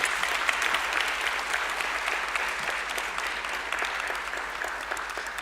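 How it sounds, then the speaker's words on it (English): An audience at an awards ceremony gives sustained applause, a dense and even wash of clapping that runs without a break. "I do want us to give them a huge round of applause."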